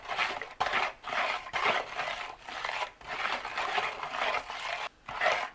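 A spoon scrapes and stirs homemade heel-helper exfoliating soap mixture around a pot, working the drying edges in repeated gritty strokes with short pauses between passes.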